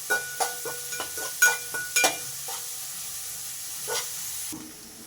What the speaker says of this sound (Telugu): ఇవి ఆయిల్లో వేసి మంచిగా ఫ్రై చేసుకుందాం. ఆనియన్స్ వేసి మంచిగా ఫ్రై చేసుకుందాం.